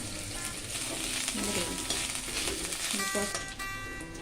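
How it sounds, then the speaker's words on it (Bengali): Garlic and ginger fry in hot oil in a pan, a steady crackling sizzle with occasional stirring clinks running unbroken throughout. "রসুন আদা ভাজা হয়ে গেছে"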